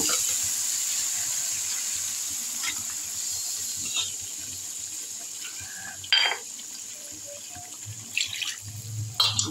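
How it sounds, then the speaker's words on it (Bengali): Water poured into a pan of spiced potato and fish-head curry during cooking, a steady close hiss and rush that runs through the whole stretch, with a few light clinks and knocks near the end. "জল দিয়ে দিলাম।"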